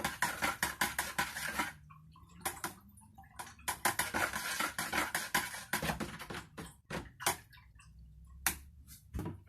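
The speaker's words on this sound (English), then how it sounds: "in goes the last litre. Give that a stir." Kodak XTOL film developer solution is stirred in a container, producing a quick run of light ticking and tapping clicks, close and fairly quiet, in uneven bursts with brief pauses.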